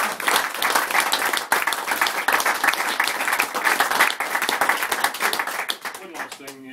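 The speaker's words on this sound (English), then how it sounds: "Another round of applause, guys." Round of applause from colleagues at a leaving speech, dense continuous clapping that fades toward the end.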